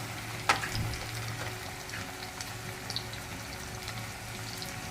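Soft crackle and hiss of drumstick pods and tomato masala frying in a pan, with one sharp clank near the start and scattered small pops over a steady low sizzle.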